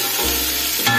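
Sliced onions hit hot oil and start a loud, close, steady sizzle that swells briefly near the end as they settle into the pan.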